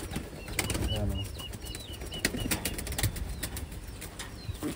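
Pigeons flap their wings close by in short fluttering bursts, with a few faint coos and chirps in the background of a loft.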